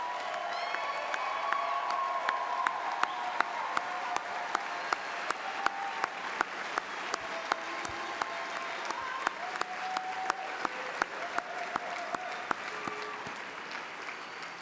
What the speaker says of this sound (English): One more round of applause for all the Millikin graduates.